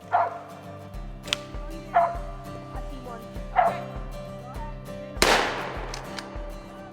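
Squirrel-hunting dogs bark out in the Michigan woods, four sharp, loud, separate barks spaced about a second apart, the last one largest and ringing out, over steady background sound.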